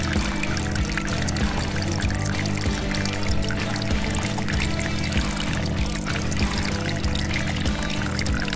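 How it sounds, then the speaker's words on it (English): Water poured steadily onto plants in a toy-scale garden scene, a continuous splashing trickle with background music running underneath throughout. "time for the watering."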